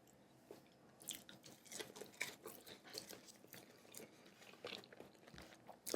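Crunchy chewing of crispy Shake Shack fries with kimchi seasoning, close and fairly quiet, with irregular bites and mouth sounds continuing for several seconds.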